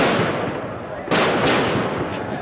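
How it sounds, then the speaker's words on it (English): Football fans setting off noise bombs in a street, two sharp loud bangs in quick succession over a noisy crowd background. "noise bombs."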